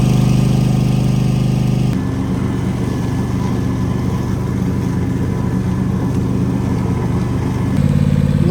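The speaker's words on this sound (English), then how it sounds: "Hopefully the collector does a good job and saves a bit of time blowing them up." A leaf collector machine runs continuously nearby, a loud steady mid-pitched engine drone with a shift in tone partway through as it works, no talking over it.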